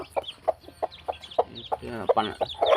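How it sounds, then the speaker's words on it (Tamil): Newly hatched chicks chirping, a rapid run of close, high peeping calls that grows busier toward the end, with a faint voice in the background. "12 குஞ்சு பொரிச்சிருக்குங்க இதுவரைய"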